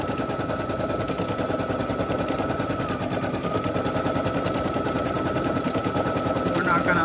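An embroidery machine stitches a pot holder, a steady rapid mechanical chatter running loud and unbroken throughout, close to the listener with no speech over it.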